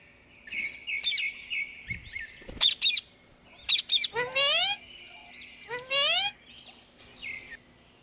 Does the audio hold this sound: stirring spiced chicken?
no